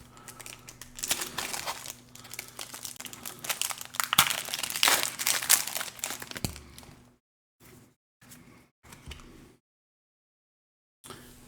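Pokémon Prismatic Evolutions booster packs being torn open, with close, crinkly foil rustling and tearing in bursts over several seconds before the sound drops into short crinkles and silence.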